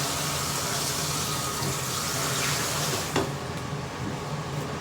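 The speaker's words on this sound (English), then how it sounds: "Now having it shampooed and washed off nice and clean." Water streams steadily while a non-surgical hair replacement system is rinsed clean after shampooing. A continuous, close hiss of running water carries throughout, with a brief sharper splash near the end.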